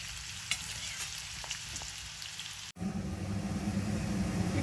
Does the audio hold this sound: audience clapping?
no